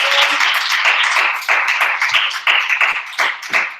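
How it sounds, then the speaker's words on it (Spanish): Audience applause at the close of an academic psychology lecture in Santiago de Querétaro, close and loud clapping in uneven bursts that fills the whole moment. "Un fuerte aplauso."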